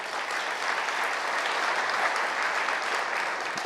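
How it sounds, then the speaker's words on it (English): Steady, dense applause from a conference keynote audience fills the whole stretch, loud and continuous without pauses or voices. "So please, another round of applause for Kelly and David."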